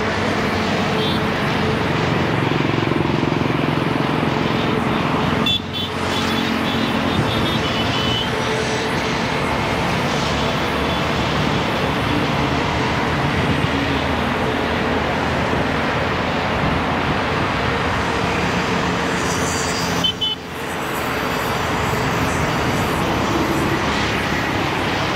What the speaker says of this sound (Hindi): ट्रैफिक आप देख सकते हैं गाइस काफ़ी ज़्यादा है. अर्ली मॉर्निंग का ट्रैफिक रहता है ईस्टर्न एक्सप्रेस हाईवे में